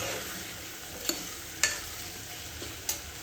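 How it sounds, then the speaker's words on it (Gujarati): Sponge gourd sautés in oil in a kadai with a steady, close sizzling hiss, broken by three or four sharp clicks of a spoon stirring against the pan. "જો આપણે તેલમાં એને સાતળી લીધા છે"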